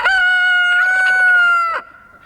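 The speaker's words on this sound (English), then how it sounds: "we have a few hens out and 3 roosters" A rooster crows once, loud and close, a long sustained cock-a-doodle-doo that cuts off sharply, leaving faint background noise.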